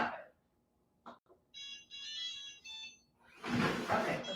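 A phone alarm sounds in a quiet room in short repeated electronic tones, with a few soft knocks before it and a louder burst of rushing noise afterward.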